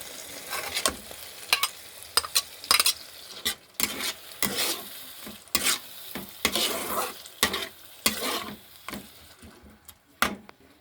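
Chicken being stirred in a pan with Kashmiri red chili, a soft sizzle broken by repeated sharp scraping strokes of a spatula at an uneven rhythm, close and fairly quiet.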